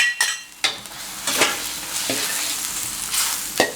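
Tilapia sauce with bean paste, oyster sauce and a starch slurry sizzles steadily in a hot pan while a utensil scrapes and clinks against the metal at irregular intervals, close and continuous.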